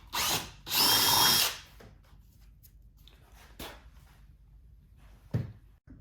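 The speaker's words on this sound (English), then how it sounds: "that's where you're actually going to drill your hole for this bass knob" A power drill with a 3/8 inch bit whirs in two short loud bursts drilling a hole in a 2022+ BMW K1600 motorcycle part, followed by quieter knocks and handling sounds.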